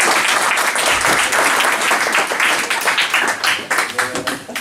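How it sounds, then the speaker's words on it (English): Audience applause at a Clayton Blackmore clinic held at TW Braga in March 2017, a loud, dense burst of clapping from a crowd that thins toward the end. "Big clap."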